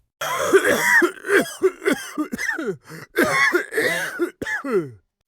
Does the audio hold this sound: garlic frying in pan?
no